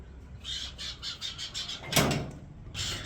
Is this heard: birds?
yes